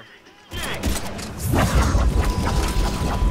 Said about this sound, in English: that's the shockwave